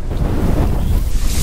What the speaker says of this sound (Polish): Tak wieje, że aż boli w nogi.